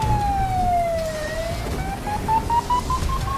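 A police car siren sweeps in a sharp, wailing tone that dips, then climbs and pulses steadily over low traffic rumble on a dark, rainy street.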